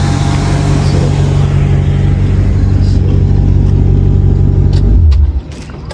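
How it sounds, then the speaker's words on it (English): A Maserati GranTurismo engine runs loud and close after being started, a sustained deep rumble that holds steady before abruptly dropping off near the end. "So let me turn this car over. All this gas, it's loud."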